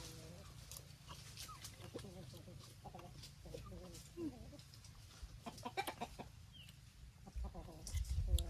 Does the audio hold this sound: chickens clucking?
yes